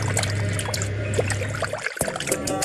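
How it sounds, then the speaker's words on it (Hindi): Water sprinkled over an ailing woman in an animated Hindi cartoon story about a magic golden fish, heard as a steady close splashing trickle that cuts off briefly before a final splash. "ये पानी अपनी पत्नी के ऊपर छिड़क दो"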